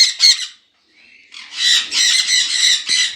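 Sun conure parrots in a bird shop, loud, close, shrill squawks in rapid bursts, a short pause, then a longer run of repeated harsh calls.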